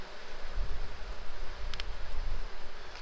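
Honeybees fanning inside a crowded hive during a split after smoking produce a dense, steady buzzing drone, close and continuous, with faint rustles and a couple of brief clicks over it.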